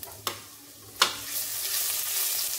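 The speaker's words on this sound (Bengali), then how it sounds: "ভালো করে আদাগুলো ভেজে নিতে হবে।" Chopped ginger fries in hot refined oil, a steady close sizzle broken by two sharp stirring knocks against the pan, with the hiss swelling afterward.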